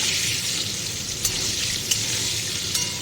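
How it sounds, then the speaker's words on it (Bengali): Potatoes with turmeric and salt fry in a pan, a steady close sizzle of oil with a few soft clinks of stirring scattered through it. "ভাজা চলছে, 5 মিনিট 10 মিনিট ভাজতে হবে ভালো করে।"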